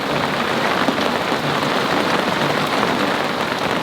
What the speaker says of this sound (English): just a peaceful, calm rain.